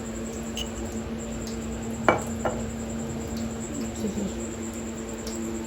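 Glass bottles are handled indoors, giving two brief, fairly quiet clinks close together over a steady background hum, with no talking.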